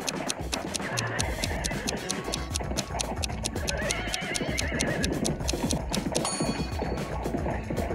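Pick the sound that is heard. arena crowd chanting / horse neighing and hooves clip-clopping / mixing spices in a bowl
horse neighing and hooves clip-clopping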